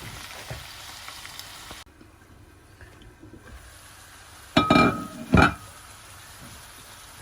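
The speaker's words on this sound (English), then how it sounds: "So I'm gonna put a lid on this and let it simmer." Beef stuffing simmers in a pan as a lid goes on, a low bubbling hiss followed by a couple of loud clattering knocks.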